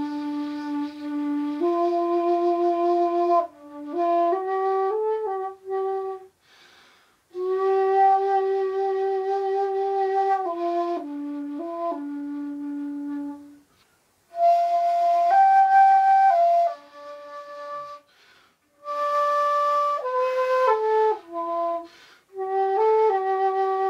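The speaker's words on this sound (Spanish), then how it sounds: "El shakuhachi suena así." A bamboo shakuhachi flute played solo, sustained breathy held tones with sliding pitch changes and short pauses between phrases, clear and close with no talking.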